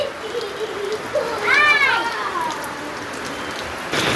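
Heavy unseasonal rain pours down in Konkan, a steady broadband hiss throughout, with a voice briefly rising over it in the middle and the downpour swelling again near the end.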